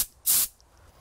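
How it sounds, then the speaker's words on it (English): A short burst of compressed air from an air nozzle fed by a truck-mounted compressor and air tank, a single loud hiss of about a quarter second, close by, with faint hiss trailing after. "I'm getting a lot of pressure out of the air nozzle and it's a nice continuous flow."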